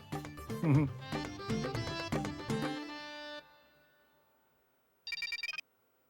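A telephone rings in a TV comedy drama scene: a short, rapid electronic trill of ringing pulses after a melodic musical passage fades to silence.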